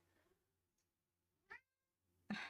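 A cat meows a few times, a short cry midway and a louder one at the end, separated by near silence.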